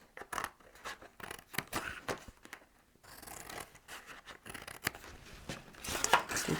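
Scissors snipping through card along scored lines for a magic pocket card, a series of close, crisp cuts with short pauses between strokes, quiet and without talk.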